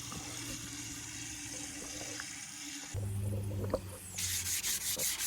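Wet sanding an aluminum wheel with 400-grit sandpaper during a restoration, a close, steady rubbing and scrubbing with water that grows louder partway through and ends in rhythmic strokes.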